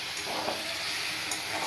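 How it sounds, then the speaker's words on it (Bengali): Masala sautés in a pan after a splash of water, giving a close, steady hiss and sizzle with a couple of soft stirring scrapes. "একটু জল দিয়ে আবার কষাবো"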